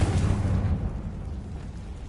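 A Confringo fire spell explodes in Hogwarts Legacy with a loud, boomy low-end burst at the start that rumbles and slowly decays over about two seconds.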